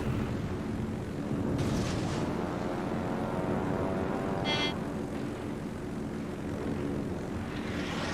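A fighter plane launches from a warship in the naval battle game World of Warships, its engine drone steady under continuous battle rumble, with a couple of short bright bursts partway through and no talk.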